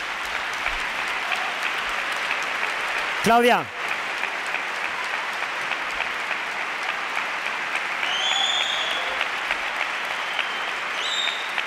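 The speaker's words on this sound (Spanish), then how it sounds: "Un aplauso para ella, por favor." Sustained audience applause fills a hall at the Goya film awards ceremony, steady and broad throughout, with a brief spoken name and a short whistle-like sweep cutting through early on.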